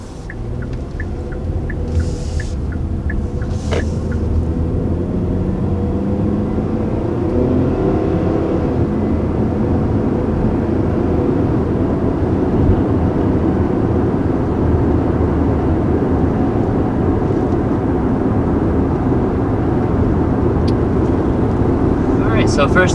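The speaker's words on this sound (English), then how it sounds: "taking off and getting up to highway speed in the Sportage" A 2020 Kia Sportage with its base engine pulls away and accelerates to highway speed, a steady, loud cabin drone of engine and road noise building and holding.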